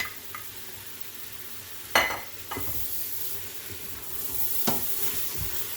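Fresh tomatoes being stirred into sautéed onions and spices in a pot for spiced Indian urad beans: soft background sizzle broken by a few sharp utensil knocks and scrapes against the pot, with no talking.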